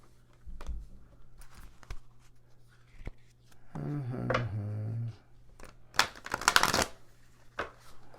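Moonology oracle cards are shuffled by hand in soft papery riffles and slaps that come in several bursts. A voice speaks briefly between them and a low steady hum runs underneath.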